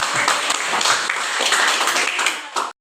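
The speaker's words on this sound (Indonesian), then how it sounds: "kita berikan tepuk tangan kepada teman-teman" Classroom audience applause, a dense patter of many hands clapping for a few seconds before stopping abruptly, with a voice faintly mixed in.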